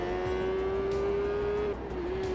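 A supersport motorcycle races in TT Isle of Man 3, its engine holding a loud, steady high-revving whine that dips briefly near the end as it shifts.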